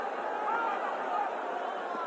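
Crowd hubbub at a T20 cricket match between Bangladesh and Sri Lanka in Sylhet, a dense steady murmur of many distant voices with no single loud speaker.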